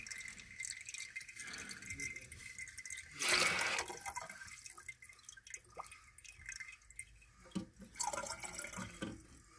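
Water trickles and drips inside a toilet tank with a faulty flapper gasket, faint and close, with a brief louder gush of running water and scattered small rattles.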